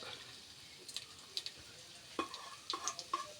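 Chopped coconut pieces fry in hot coconut oil in a cooker for kalathappam, giving a quiet, sparse sizzle with irregular sharp pops and crackles that cluster more densely toward the end.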